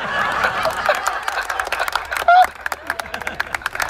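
An audience at a Kumbh Mela satsang claps in a dense, ragged patter of many hands, fairly close, with a voice speaking over part of it.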